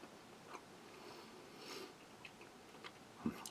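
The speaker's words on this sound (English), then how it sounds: "So just bite that in half. Very firm, Very powdery gum." Chinese army combat ration gum, very firm and powdery, bitten in half and chewed close to the mouth: faint sporadic crunches and soft wet mastication clicks over quiet room noise, with one sharper snap near the end.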